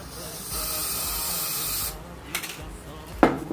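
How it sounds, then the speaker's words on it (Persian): Aerosol can sprayed onto a decorative vase, giving a steady loud hiss of about one and a half seconds, followed by a couple of quieter short bursts later. "مقداری از این اسپری رو میگیرید توی حالا یا در ظرفتون یا هر قسمت دیگه ای که دوست دارید"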